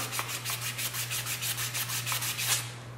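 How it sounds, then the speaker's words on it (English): Sandpaper rubbed by hand over a metal part of a Kimber pistol, a steady rhythmic back-and-forth scratching of about five strokes per second, close and continuous over a constant low electrical hum. "Moving the sandpaper each time."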